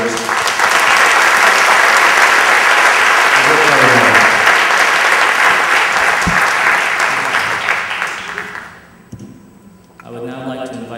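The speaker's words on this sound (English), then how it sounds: "can we actually give another round of applause to the conference organizers and post-conference organizers?" A large conference audience at an opening ceremony gives sustained, loud applause for the organizers, a dense wash of clapping that fades out near the end before a voice resumes speaking.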